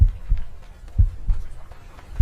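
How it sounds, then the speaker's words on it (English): Rhythmic heartbeat sound effect, a steady series of deep low thumps in pairs, repeating about once a second and moderately loud over a faint background hum. "We can hear the community heartbeats."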